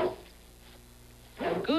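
A noisy dog barks in a short, sharp burst near the end of a quiet moment, medium close, after a brief stretch of faint background sound.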